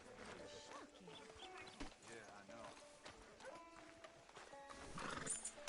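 Horses' hooves clip-clop in uneven steps alongside a whinny in the video game Red Dead Redemption 2, with people talking and ambient game sounds layered underneath.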